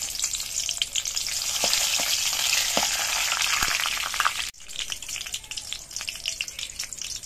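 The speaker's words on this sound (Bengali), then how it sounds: "তেলটা গরম হয়ে যাওয়ার পর এর মধ্যে দিয়ে দিচ্ছি 4টে তেজপাতা" Four bay leaves and four dried red chillies fry in hot mustard oil in a kadai, a steady loud sizzle with crackling pops that briefly drops off midway and then resumes a little quieter.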